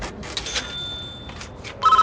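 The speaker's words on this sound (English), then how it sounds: "I'll answer the call anyway quickly as well, because otherwise that ringing is going to be really annoying." Telephone ringing inside the video game Prison Architect: repeated electronic ring bursts with steady tonal lines, a brief pause, then a louder ring at the end, with no talking.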